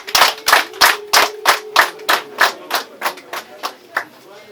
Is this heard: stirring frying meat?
no